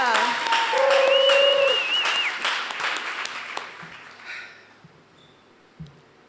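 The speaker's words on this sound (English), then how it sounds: "I just want to give it some round of applause for everybody in here in Oakland." An audience at a poetry slam for peace in Oakland's Continental Club bursts into loud applause with whoops and cheers, then the clapping fades away over a few seconds into scattered sounds.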